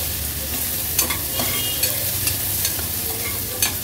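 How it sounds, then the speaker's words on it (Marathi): Chopped onion fries in hot oil while being stirred, a constant close sizzle broken by several sharp spatula scrapes and taps against the pan. A low hum sits underneath and there is no speech. "कांदा तेलावर थोडासा परतून घ्यायचा आहे।"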